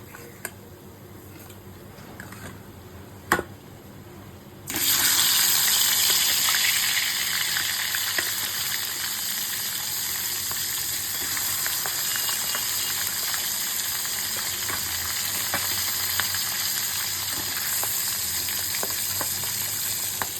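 Three more pieces of fish drop into hot oil and start frying. After a quiet start with a faint click, loud, steady sizzling and crackling breaks out suddenly and keeps going close up for the rest of the clip.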